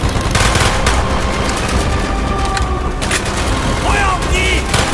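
Gunfire in Call of Duty: Black Ops on Xbox Series X comes as continuous rattling bursts and booms under shouted German voices, dense and loud throughout.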